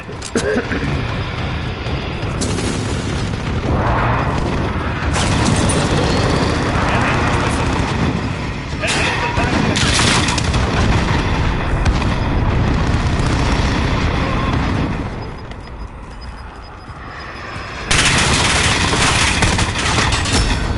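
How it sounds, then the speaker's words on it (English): Call of Duty battle with an allied precision airstrike: dense, continuous roaring explosions and rattling gunfire fill the scene loudly, with a brief dip before another heavy burst, and voices come through faintly underneath. "Allied precision airstrike in."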